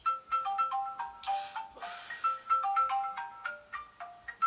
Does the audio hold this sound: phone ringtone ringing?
yes